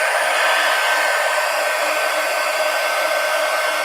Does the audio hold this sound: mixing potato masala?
no